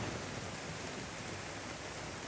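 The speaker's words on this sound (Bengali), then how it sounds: "দেখুন কত জোরে বৃষ্টি পড়তেছে" Heavy rain pours down steadily over a road, a dense, even hiss that stays loud and unbroken throughout with no voices.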